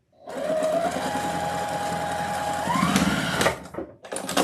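A sewing machine runs steadily for about three seconds, stitching the back seam of a striped boot for a Halloween witch wreath, then stops with a few short bursts. The whirring motor is close and continuous, with no talk.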